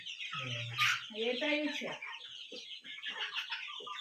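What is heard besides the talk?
guinea fowl (titir) clucking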